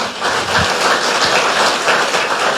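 Church congregation clapping together in a dense, steady patter of applause throughout, with no voices over it.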